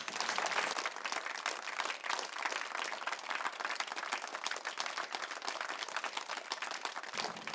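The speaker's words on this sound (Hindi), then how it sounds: "आप मेरे लिए तालियां बजा सकते हैं" Audience applause at a Buddhist vihar gathering, a steady patter of many hands clapping at moderate distance, continuing evenly for several seconds and tapering slightly near the end.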